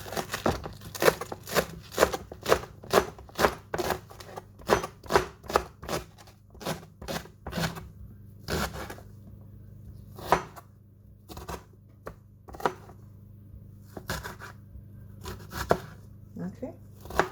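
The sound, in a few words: chopping green onions with a knife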